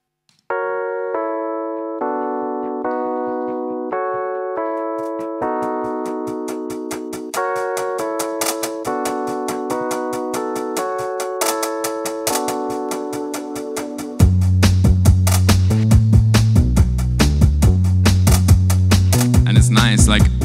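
Instrumental beat of a produced song playing alone, a melodic synth pattern stepping through chords, joined about two-thirds in by a heavy bass and drums that make it louder and fuller.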